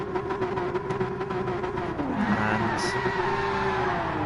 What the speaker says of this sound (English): Mad Marshall there doing some burnouts.